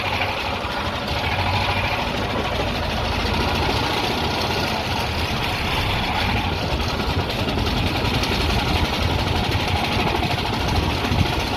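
A Honda GX390 generator engine fitted to a dune buggy runs steadily, a continuous loud rumbling drone with no talk over it.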